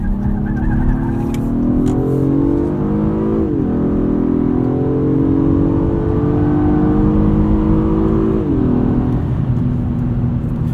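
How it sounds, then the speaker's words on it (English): A 2018 Acura TLX A-Spec SH-AWD engine pulls hard through the gears in Sport Plus mode, pitch climbing steadily with two quick upshifts, a continuous loud interior drone without talk. "Let's throw it into Sport Plus and see how the transmission reacts in the sportier driving mode."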